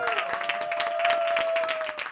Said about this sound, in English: Give a round of applause for all of our special guests here today